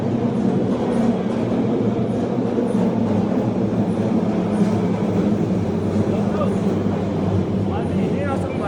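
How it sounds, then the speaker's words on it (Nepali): A train pulling into a station in Osaka, Japan, with a steady rumbling roar and rolling wheel noise filling the platform, while people talk close by over it. "ट्रेन आयो यही ट्रेनमा जाने हो"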